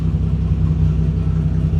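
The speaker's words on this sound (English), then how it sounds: "I went to go rev it, but it just died" Chrysler Valiant 245 engine in a VG hardtop, a low, steady idling rumble heard close and loud throughout.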